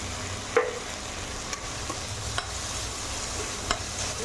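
Spices with turmeric and salt are sautéed in a pan for a potato egg curry, giving a soft, steady sizzle with a few sharp stirring clicks scattered throughout; no one speaks.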